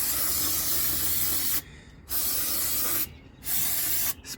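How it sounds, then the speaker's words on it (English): Brake cleaner hisses from an aerosol can in three bursts, loud and close, with short silent gaps between them, used to clean metal shavings from a repaired differential. "I'm gonna take some brake cleaner,"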